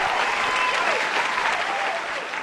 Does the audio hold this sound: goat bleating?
no